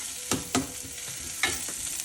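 Onion sautés in a hot pan for a potato stir-fry, with a continuous close sizzle and three or four distinct spatula scrapes stirring it around.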